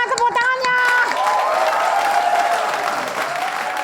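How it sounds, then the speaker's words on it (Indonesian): Audience applause and clapping at a stage show, a dense, loud wash of hands with a few voices mixed in at the start. "Mana tepuk tangannya?"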